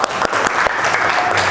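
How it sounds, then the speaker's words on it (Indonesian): Steady, close hand clapping from a group of vocational school students in a classroom, a dense continuous patter of claps with no talk over it. "Tepuk tangan"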